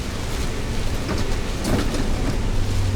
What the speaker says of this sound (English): Other than a whole bunch of rain, a little bit of wind